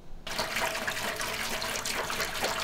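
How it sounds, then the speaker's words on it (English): Water runs steadily from a faucet for cooling wort during home all-grain beer brewing, a continuous close hiss and splash that starts abruptly and carries on alone. "the water is coming from the faucet here"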